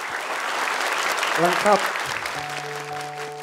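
An audience at an Indonesian hadith memorisation challenge show applauds steadily, a dense wash of clapping at moderate volume, while a voice speaks briefly over it near the middle and a sustained musical tone comes in toward the end.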